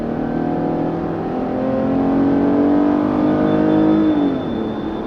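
A 2017 Chrysler Pacifica minivan with a modified Pentastar 3.6 liter V6 accelerating, a loud steady engine drone heard from inside the car that rises in pitch as it builds speed and then eases off.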